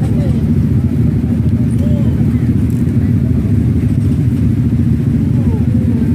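A big-tyre motorcycle engine runs steadily and loudly at the roadside, its continuous low rumble filling the scene without clear revving peaks.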